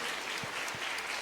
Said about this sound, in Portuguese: Então aproveite e aplauda Ele em nome de Jesus